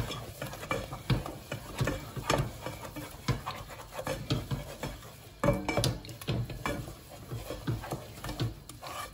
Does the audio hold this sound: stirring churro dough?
yes